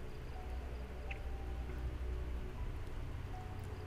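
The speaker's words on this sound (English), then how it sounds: "We gotta get out of the rain quickly." Rain falls steadily in the zombie survival video game Project Zomboid, a soft, even hiss of drops with no speech over it.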